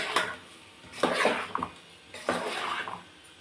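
Bottle gourd pieces stirred into green chilli paste in a pan over medium flame, giving three short bursts of scraping and clattering with quiet pauses between, close by and with no talking.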